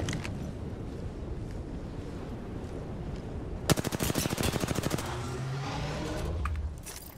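Automatic gunfire from a weapon in the video game Apex Legends, a rapid loud burst of shots that starts abruptly midway over steady game ambience and fades into rumbling echo, no talk.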